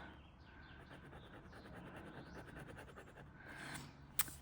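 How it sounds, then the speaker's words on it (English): Quiet scratchy strokes of a pen moving across card, soft and close, with faint background hum and a single sharp click near the end. "So I'm just going to write on the card because I have the pen inked."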